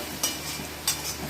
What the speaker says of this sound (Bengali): সবজিটা দেওয়ার পর ভালো করে ভেজে নেব। গ্যাসের ফ্লেমটাকে হাইয়ে রাখবো।